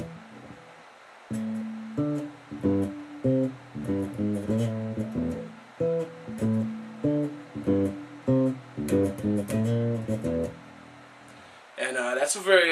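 Bass guitar plays a minor pentatonic run, a string of plucked, rhythmic notes in quick phrases, clear and close, with a brief burst of other sound at the very end.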